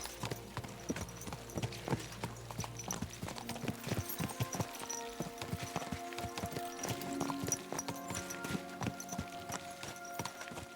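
Horses galloping in the video game Kingdom Come: Deliverance II, with steady clip-clopping hooves across the whole stretch over a soft musical background, plus a faint whinny.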